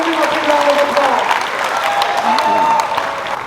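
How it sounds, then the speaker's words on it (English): Applause fills a 50th birthday celebration, a steady wash of clapping from a crowd that holds at an even level throughout, with some voices mixed in. "So let's give him a big round of applause."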